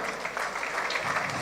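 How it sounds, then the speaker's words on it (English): Short burst of audience clapping for a panel moderator at a Lagos career fair session, a mid-distance patter of many hands with no talk over it. "Please, a round of applause for him."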